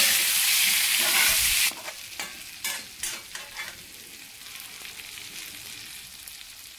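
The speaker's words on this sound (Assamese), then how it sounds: "আৰু এইখিনি ভালকৈ লৰাই ল'ব লাগিব।" Potatoes and boiled pork being stirred in frying masala for an Assamese-style pork curry: a loud hissing sizzle at first, then a series of spoon scrapes and clatters as the mixture is turned, settling to a softer simmer.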